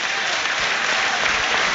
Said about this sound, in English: The applause you can hear around us are for Jake O'Brien as he comes from behind the goal